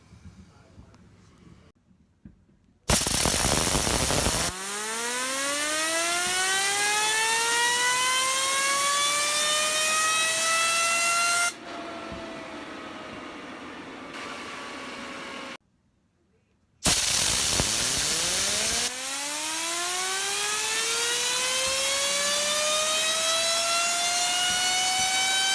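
A Rotablade Tri Stubby fidget spinner whirs loudly, its pitch sliding down steadily as each spin slows, with two separate spins separated by a brief quiet gap.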